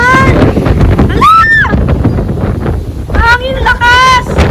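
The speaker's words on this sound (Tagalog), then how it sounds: "Hangin, lakas!" Strong typhoon wind (Typhoon Ulysses) roars and buffets the microphone throughout, with excited voices shouting over it nearby.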